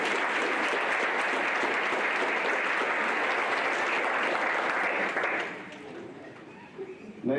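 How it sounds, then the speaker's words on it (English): Audience applause fills a school board meeting hall, dense sustained clapping from a sizable crowd for about five seconds before quickly fading to scattered claps and room noise. "Let's give him a big round of applause."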